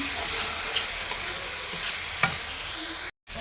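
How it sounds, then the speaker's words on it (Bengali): Kashmiri chilli and turmeric powder stirred into a frying prawn curry, a close, steady sizzle with a few soft scraping strokes of the spoon, brief and cut off by a short dropout near the end. "কাশ্মীরি লঙ্কা গুঁড়া দিলাম, হলদি গুঁড়া দিলাম, একটু নেড়ে নিলাম।"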